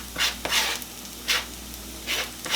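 Garlic added to softened onions sizzles in a hot pan, and the hiss swells in a few short bursts as the pan is stirred, close and fairly loud, with no voices.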